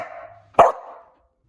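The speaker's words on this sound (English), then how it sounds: "he's been sitting around literally just barking at me" A rescue dog gives a single sharp, close bark after a soft low whine, then silence.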